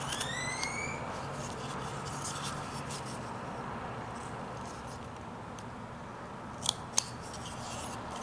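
A knife cutting deeper into a wooden carving roughout, close, steady scraping and whittling strokes with a few sharp clicks near the end, no speech.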